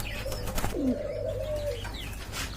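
A pigeon gives a soft, low coo that rises and trails off near the middle, with a faint chirp and steady background hum around it and no talking.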